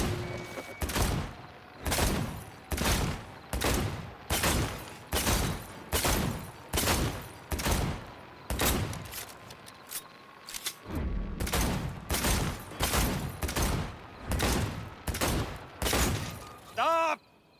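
Rapid bursts of gunfire from a shooting contest in the video game Cyberpunk 2077: Phantom Liberty, about twenty loud evenly spaced shots in a steady rhythm, with a short pause midway and no talking.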